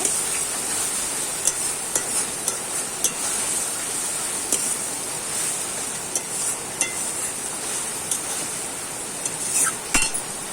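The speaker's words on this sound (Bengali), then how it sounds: "মিট মশলাটা আমি দিয়ে দিলাম পুরোটাই। এটা দিয়েও ভালো করে কষিয়ে নেব।" Meat curry sautéing with meat masala in a home kitchen, a constant frying sizzle broken by regular sharp clinks of a spoon stirring against the pan, fairly close and with no talk.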